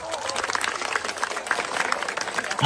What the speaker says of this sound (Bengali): তার জন্য একটা হাততালি তো আশা করতেই পারি